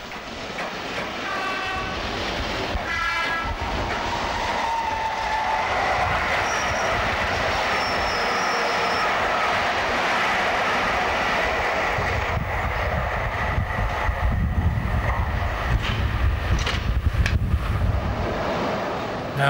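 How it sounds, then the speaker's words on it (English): A British Rail Class 305 electric multiple unit pulls into a station bound for Liverpool Street, a steady loud rumble with brief squeals and rail clatter that continues throughout. "One of the class 305s arrives bound for Liverpool Street."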